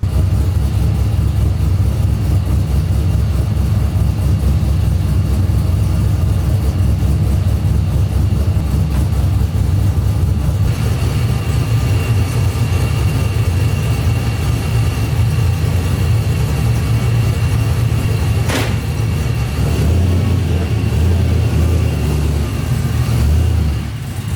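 An FC Mazda RX-7's engine runs steadily and loudly up close, a constant low rumble with a slight shift in tone partway through, and no voices.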